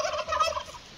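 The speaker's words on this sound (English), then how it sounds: "Turkeys are going to tell you." A wild turkey gobbles once in a rapid rattling burst, clear but moderately distant, outdoors near a wooded homestead.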